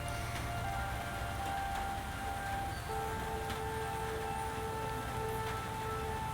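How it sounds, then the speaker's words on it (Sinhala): Steady rain falls on the surroundings during a walk to lectures, a continuous faint hiss with scattered drop patter and a low rumble beneath. "මේ වැස්ස ටිකක් දාරුණුයි"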